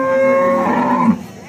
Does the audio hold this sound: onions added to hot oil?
no